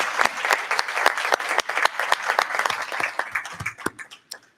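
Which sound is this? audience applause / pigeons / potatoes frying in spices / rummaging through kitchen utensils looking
audience applause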